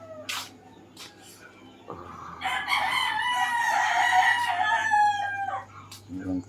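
A rooster lets out one long crow at close range, with scattered chicken clucks and faint noises before and after it in a quiet morning setting.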